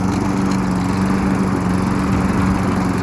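A Craftsman Platinum EZ Walk 7.25 190cc walk-behind lawn mower engine runs at a steady, loud, close drone, alone with no talking.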